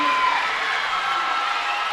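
A crowd roars and cheers continuously after a high school cheerleading routine at a championship, a loud dense wash of voices with scattered clapping.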